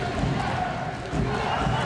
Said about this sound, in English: The crowd is chanting Russia big time.